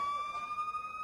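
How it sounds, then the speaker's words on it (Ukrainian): A fire engine siren sounds as a steady, piercing electronic tone, held loud and unbroken for the whole moment with no voices over it. "Так, це пожежна машина."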